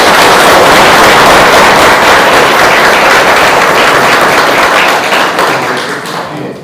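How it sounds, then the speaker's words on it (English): Audience applause at a school district event, loud, dense clapping from a crowd that holds steady for several seconds and then tapers off. "Give them a round of applause."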